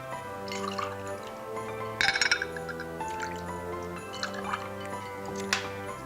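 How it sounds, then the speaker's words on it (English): Knob Creek bourbon pours into a cocktail glass with soft trickling and dripping sounds, close by, over steady background music with no talk. "We're going to add 2 ounces of this to our drink."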